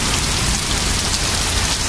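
Large baseball-size hail pounding down during a supercell thunderstorm, a dense, loud, continuous roar of impacts filling the whole moment with no pauses.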